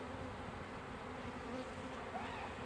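Honeybees buzzing at an open beehive during a pre-wintering inspection, a steady, soft, close drone of many wings with no gaps.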